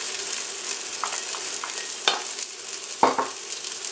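Roughly chopped green onions, three or four of them, sizzle steadily in a pan for a Greek spinach and rice dish, with a continuous hiss broken by a few soft stirring clicks and scrapes near the mic.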